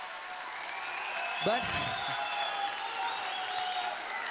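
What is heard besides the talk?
audience applause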